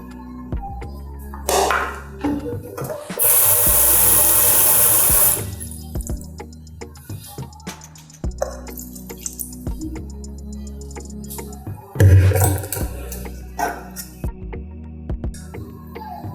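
Boiled pineapple-peel juice strained into a container, splashing and pouring loudly for a couple of seconds, then quieter clinks and trickles, with a second burst of pouring later.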